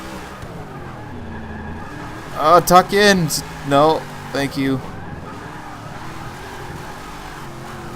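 Ram Runner car drifting in the racing game Forza 6, its engine droning low and steady while a few short tire squeals flare up in the middle, with someone talking over it.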